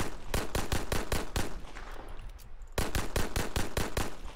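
An M1918 BAR automatic rifle fires in Fallout 4, with a rapid, loud burst of evenly spaced shots, a brief pause, and then a second sustained burst.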